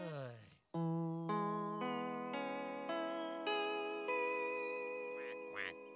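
A cartoon duck character gives a run of tonal, buzzy quacks with a slight electronic or distorted edge, several close and loud calls following one another.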